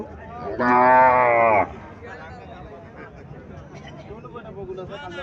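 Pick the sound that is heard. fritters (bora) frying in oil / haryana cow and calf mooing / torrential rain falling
haryana cow and calf mooing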